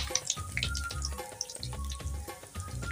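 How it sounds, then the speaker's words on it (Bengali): Dried chilli, cinnamon, cumin and asafoetida tempering in hot mustard oil for paneer malaikari make a close, crackling sizzle, with low rhythmic thumps and spatters of stirring running underneath. "আর ফোড়নে দিয়ে দিচ্ছি একটা শুকনো লঙ্কা, আর অল্প একটু দারচিনি, গোটা জিরে, আর সামান্য একটু হিং আমি ফোড়নে দিয়ে দিচ্ছি"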